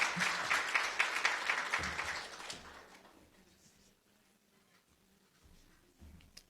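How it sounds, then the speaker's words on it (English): A conference audience at an annual fundraising meeting claps in a loose round of applause that fades out after about three seconds, leaving quiet room tone. "One more round of applause for Dr. Osili, please."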